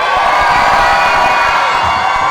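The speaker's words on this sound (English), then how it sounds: "We're gonna do a cheer off between Jurassic Attack and War Wizard." A monster truck show crowd cheers and whoops loudly for a truck during a cheer-off, a dense, continuous roar of shouting voices including children, with no pauses.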